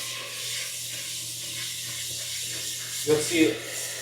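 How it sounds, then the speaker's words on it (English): Rice being rinsed in water at a kitchen sink: a steady faucet hiss, then a couple of louder swishing splashes near the end as the grains are stirred in the water. "then I like to rinse my rice. You should always rinse your rice."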